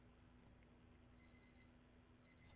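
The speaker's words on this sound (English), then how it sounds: "Ah! The alarm!" An alarm clock in the video game Bloxburg rings in two short bursts of rapid electronic beeps, quiet and thin over low background hum.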